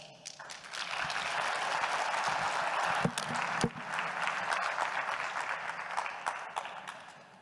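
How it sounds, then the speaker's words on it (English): Audience applause after a presentation at a business forum during Global Expo Botswana 2023, steady dense clapping filling the room for several seconds with a few sharper claps standing out. "A round of applause, ladies and gentlemen."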